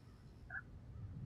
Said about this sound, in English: that looks like one of those birds meant to scare away other bigger birds